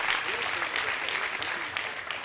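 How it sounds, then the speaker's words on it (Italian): Audience applause for comedian Roberto Lipari at a comedy show, a dense, steady wash of clapping sustained at even loudness throughout. "un altro applauso"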